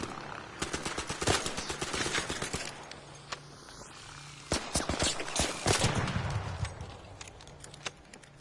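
Bursts of gunfire in the video game ARC Raiders, clusters of sharp rapid shots separated by quieter gaps, moderately loud against a low steady background hum.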